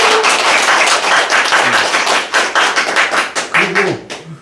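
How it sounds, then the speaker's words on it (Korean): A church congregation claps during a Sunday worship service, many hands at once in a dense, uneven patter that rises and falls, growing more rhythmic and sparse toward the end, with a brief murmur of voices. "우리 남전도에서 박수 부탁드립니다"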